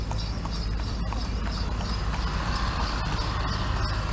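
Horse-drawn carriage taxi hooves clip-clop steadily on a town street in Pyin Oo Lwin, Myanmar, a continuous near rhythm over low rumbling road noise.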